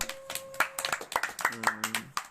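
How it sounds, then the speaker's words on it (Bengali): Clapping for a student in a children's drawing class, a brisk run of sharp, irregular hand claps from a small group close by, with faint voices and tones underneath. "জোরে হাততালি দাও"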